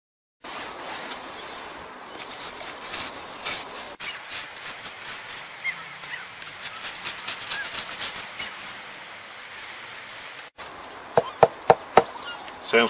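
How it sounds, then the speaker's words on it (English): Snow is scraped and chopped off the frozen ice of a garden pond in January, a close gritty rasping and scratching that runs steadily, ending in a few sharp knocks. "first thing I need to do is clear the snow off of the ice on the pond"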